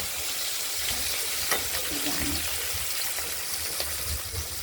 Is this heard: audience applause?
no